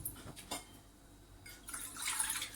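Water poured into a simmering curry leaf kulambu in a cooking pot, a soft splashing trickle with drips that grows fuller toward the end, heard alone and fairly quiet.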